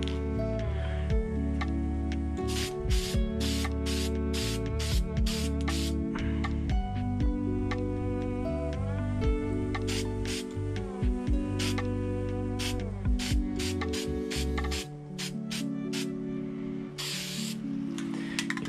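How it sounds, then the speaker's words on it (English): Black spray paint from an aerosol can is sprayed onto an ignition cover in a series of short, close hissing bursts, some in quick succession, over steady tonal background music. "go ahead and spray these down"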